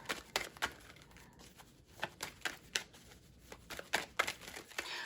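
A deck of cards is shuffled by hand, a string of quick, soft riffling and snapping bursts with short pauses between them, quiet and close.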